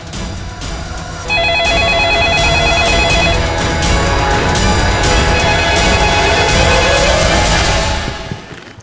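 Loud, close electronic telephone ring repeating its tone in bursts over a low background rumble.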